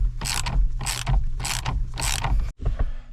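A torque wrench ratchets on the pitman arm nut of a second-generation Toyota 4Runner, four loud rhythmic bursts of clicking close by, then a brief pause and a final short click.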